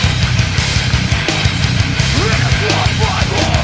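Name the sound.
metalcore band music excerpt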